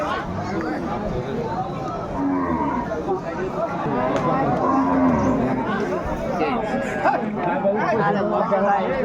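Cows and calves moo now and then amid a busy crowd of chattering people at a cattle market, the low calls rising over a constant babble of voices.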